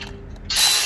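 A jack lifts a K20-series engine during an engine mount replacement, giving a single brief, close ratcheting mechanical burst after a moment of quiet.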